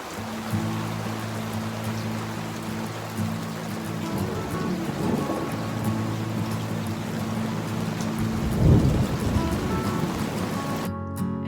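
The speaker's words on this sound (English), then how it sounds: "A huge storm rolled in and we enjoyed watching the lightning and looking at all the animals coming out to enjoy the rain as well." A steady downpour of rain during a storm near Copeton Dam, hissing close and fairly loud throughout, with a heavier low rumble swelling briefly near the end that could be thunder.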